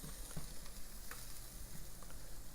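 Turkey sausage and egg whites frying in a pan, a close, steady sizzle and crackle with a few small bumps of stirring.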